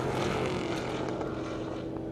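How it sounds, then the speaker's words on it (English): A Dodge Challenger Hellcat engine revs nearby at an airstrip drag race, a steady, loud, broadband roar with low rumble and wind buffeting, continuous for about two seconds. "it's always cool when they rev their motors in front of the live stream"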